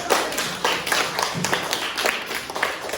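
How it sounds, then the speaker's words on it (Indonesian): A classroom of students claps for a classmate, a short burst of close, uneven hand claps lasting a few seconds with no talking over it. "Beri tepuk tangan dulu."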